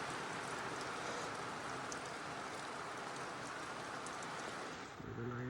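Steady, dense rain pours at a foggy hilltop viewpoint as a continuous close hiss, cutting off abruptly near the end.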